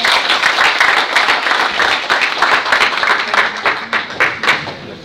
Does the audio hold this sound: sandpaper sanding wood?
no